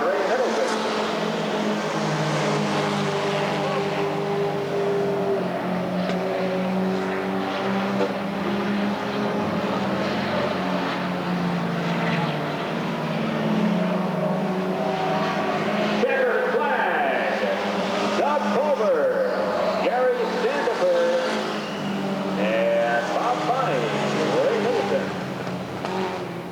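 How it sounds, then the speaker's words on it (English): Race cars roar around the Redwood Acres Raceway dirt oval, a continuous engine drone that rises and falls as they pass, heard under an announcer's ongoing commentary. "And out of turn 4, one more time around for Doug Pulver, Gary Sandifer, Bob Bonnie,"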